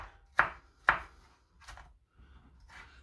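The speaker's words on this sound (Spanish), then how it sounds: "partimos el tomate a daditos" Knife dicing tomato on a cutting board, two sharp close chops followed by softer, quieter cuts, spaced about half a second apart.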